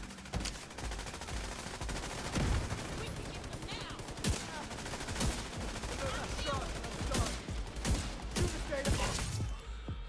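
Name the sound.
gunshots in The Division 2 video game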